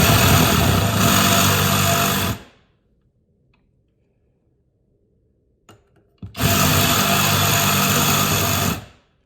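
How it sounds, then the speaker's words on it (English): A power tool cuts threads off a bolt during fabrication of a 1941 Willys tilt hood hinge, two loud steady whining bursts separated by a silent pause with a small click. "And you remove just the threads. You don't want to cut the bolt. You don't want to go too far. Just cut the thread."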